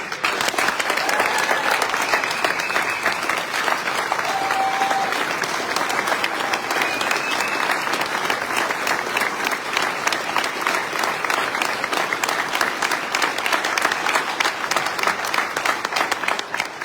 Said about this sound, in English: I'd love to give them a big round of applause